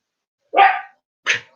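Two sharp barks from Rosie, a pet dog, close and loud, the second one shorter, with silence around them.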